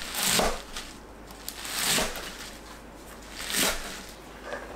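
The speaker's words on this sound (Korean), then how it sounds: "부추를 4cm 길이로 썰어주세요." A knife cuts garlic chives into 4 cm lengths on a board, three soft, separated chopping strokes over a quiet background, close and fairly faint, with no talking.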